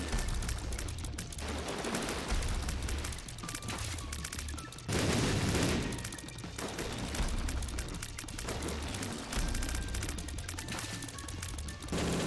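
Dense, loud barrage of game explosions during a boss fight in The Binding of Isaac: Repentance, with rapid popping blasts and a heavier burst near the middle, continuous over a busy soundtrack, no talk.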